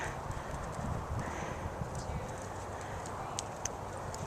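A horse canters in an arena, hooves thudding in a quick, steady rhythm at moderate distance, with faint voices and ambient noise around.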